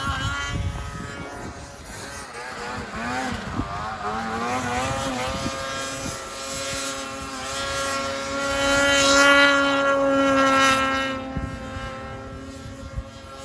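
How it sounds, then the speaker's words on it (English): A snowmobile engine drones with a shifting pitch as its track rattles and skips in rough, irregular bursts, loud and close. "You can just hear that track skipping."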